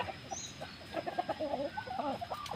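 Backyard chickens cluck close by in a short, irregular series of soft calls over a quiet farmyard background.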